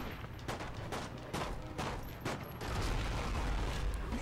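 Gunfire in the video game Medal of Honor: Rising Sun: repeated sharp bursts of shots and clanking mechanisms over a constant noisy battle background, fairly quiet overall.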